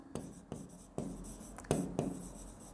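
A pen writes on paper in five or six short, scratchy strokes spaced about half a second apart, close and fairly quiet.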